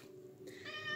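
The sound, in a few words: cat meowing on the floor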